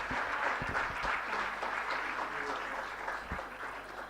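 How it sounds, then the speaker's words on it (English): Applause from attendees at a school educators' session, a soft, distant patter of clapping that continues evenly before gradually thinning out. "we can give them a round of applause"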